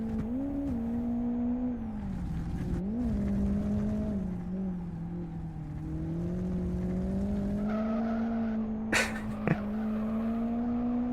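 A race car in the driving game Live For Speed, its engine droning loud and steady as it climbs through the gears, with brief tyre squeals and a knock near the end, and no talk over it.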